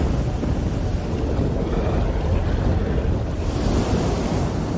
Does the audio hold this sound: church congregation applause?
no